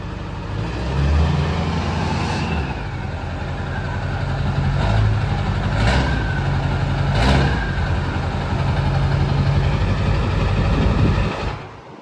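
A 2002 Ford F350 dually's 7.3 Powerstroke diesel, running through a 5-inch straight pipe with a 6-inch tip, idles loud and close with a deep, lumpy rumble, broken by a few short throttle blips.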